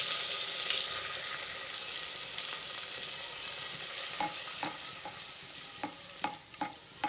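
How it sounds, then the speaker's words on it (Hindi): Tomatoes frying in a pan for a chicken handi give a continuous close sizzle, and in the second half the stirring grows busier, with several sharp spoon knocks and scrapes against the pan. "अब टमाटर डालकर खूब पका लें।"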